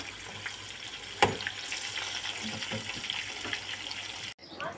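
Zucchini slices frying in a pan, a close, steady sizzle with a sharp clink partway through and someone talking faintly in the background.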